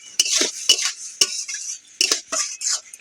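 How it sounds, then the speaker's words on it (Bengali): A spoon stirs onions and tomatoes with salt in a cooking pot for a mutton curry. Several distinct, close metallic scrapes and clinks come in an irregular rhythm over a faint sizzle. "লবণটা দিয়ে ভালো করে পেঁয়াজ টমেটো ভালো করে নেড়ে চেড়ে নেব।"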